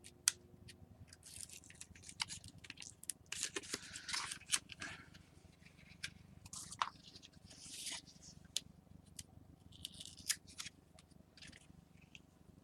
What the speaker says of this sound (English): I'm going to pull the rest of my tape off and then realign it